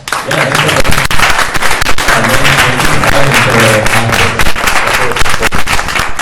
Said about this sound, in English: let's give Devin a round of applause